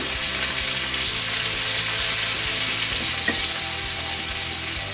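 Bell peppers sizzle steadily in a nonstick frying pan for paella, a loud, even, close hiss of frying with faint scattered crackles throughout.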